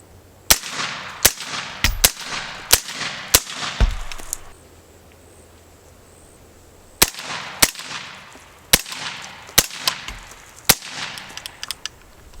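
Suppressed 5.56 rifle shots through B&T SRBS and Rugged Razor suppressors crack in two separate strings of about six sharp reports each, with a quiet pause between the strings and faint clicks near the end.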